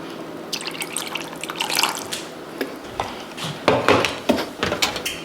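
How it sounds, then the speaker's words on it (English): Water spooned into a beef and broccoli sauce of dark soy sauce and Shaoxing wine, with small drips and splashes coming in several close bursts and louder splashes near the end. "Then we're going to add in about a tablespoon of water."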